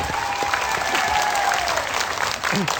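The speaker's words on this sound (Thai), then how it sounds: "ขอเสียงปรบมือหน่อยนะฮะ" A television studio audience on a Thai talk show breaks into loud, close applause, a dense wash of clapping that carries on throughout, with a faint voice slipping in near the end.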